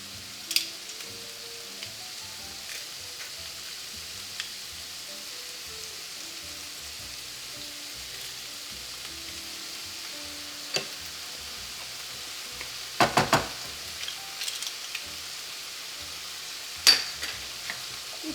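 Garlic and black pepper frying in a pan, a soft steady sizzle running throughout, with a few clattering clicks of a utensil stirring near the end.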